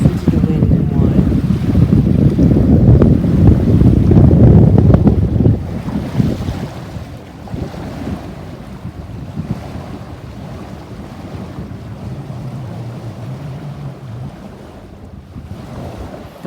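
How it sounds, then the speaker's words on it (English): Wind and water rush past a sailboat under way off Thormanby Island, loud blustery buffeting and wave wash up close at first, then easing to a softer, steady churn of water. "Now listen to the wind and water."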